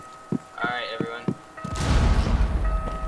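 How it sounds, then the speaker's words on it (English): Gunshots in a video game, a few sharp thuds early on and then a heavy rumbling burst, with in-game sounds layered over them. "Gunshots rang out."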